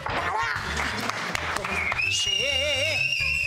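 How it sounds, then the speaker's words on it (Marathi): A class welcomes a newly engaged couple with clapping and whistles; a long shrill whistle sounds over applause and loud voices in a crowded room. "टाळ्या, शिट्ट्या."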